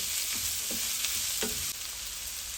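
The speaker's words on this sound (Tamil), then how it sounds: "பச்சை மிளகாய், இதளவு இஞ்சி, கருவேப்பிலை இதெல்லாம் சேர்த்துட்டு நல்லா வதக்கி விடுங்க எண்ணெயில்" Oil sizzles steadily in a pan as green chilies, ginger and curry leaves are sautéed, with a few stirring scrapes and clicks against the cookware.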